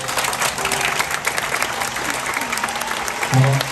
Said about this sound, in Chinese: 请给他们一个祝福的掌声